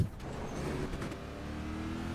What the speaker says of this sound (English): that V8 sounds like two inline fours put together